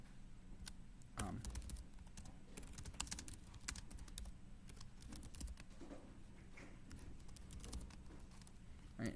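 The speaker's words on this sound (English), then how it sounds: "I'm just typing a bit slow because I've decided to put this in the text editor." Quiet, uneven keyboard typing with scattered light key clicks in irregular bursts over a faint background hum.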